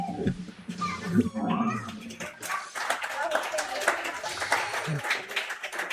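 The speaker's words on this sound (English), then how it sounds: "Huge shout from the crowd as well off that" A crowd at a UK national championship qualifying match bursts into a shout and cheering after a point is scored, a rough swell of voices and claps under a commentator talking.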